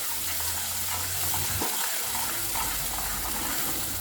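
Ground onion paste sautés in hot oil for an onion thokku, a steady, dense sizzle and hiss that fills the whole stretch without letting up, close and fairly loud with no voices.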